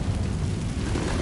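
A Confringo fire spell from a Hogwarts game bursts as one close, heavy blast, a dense low rumble that fills the moment without break and with no voices.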